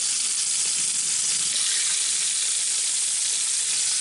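Rabbit pieces browning in olive oil in a hot Dutch oven, giving a loud, steady sizzle and crackle of frying that continues without pause.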